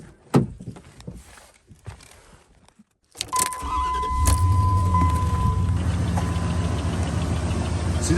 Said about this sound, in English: So let's start the ignition of this old Dodge pickup.